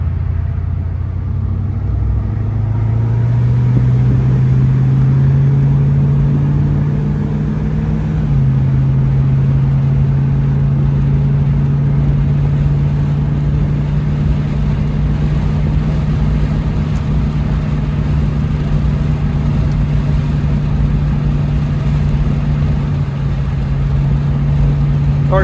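A Ford Mustang convertible with a 289 V8 rumbles loud and close with the top down, its deep engine note climbing as it pulls away and then holding steady at cruising speed.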